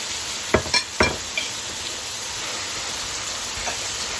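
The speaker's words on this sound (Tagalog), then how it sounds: "So, lagay next na natin ang hipon." Shrimp land in a pan of sautéing pork for pancit canton, giving a steady bright sizzle with a few clattering stirs and scrapes near the start.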